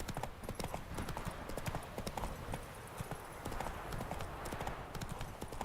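Geralt's horse Roach gallops in The Witcher 3 video game, hooves pounding in a fast, steady rhythm amid busy game ambience, with no voices over the hoofbeats.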